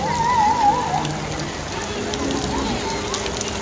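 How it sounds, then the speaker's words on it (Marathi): Heavy rain pours down near a village school, a steady broadband wash with faint voices in the background. "धुरपूस घेतला पावसाने."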